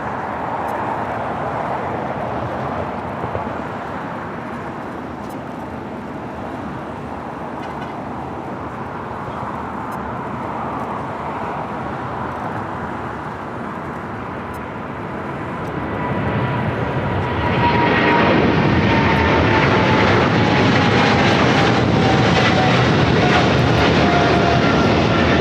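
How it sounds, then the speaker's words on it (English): Boeing 777 freighter jet on its takeoff roll down runway 25 left at LAX, a steady distant roar that swells sharply louder and brighter partway through and holds at full power. "The 777 freighter rolling down at 25 left."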